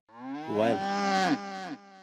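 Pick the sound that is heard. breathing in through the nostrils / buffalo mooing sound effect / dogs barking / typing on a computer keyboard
buffalo mooing sound effect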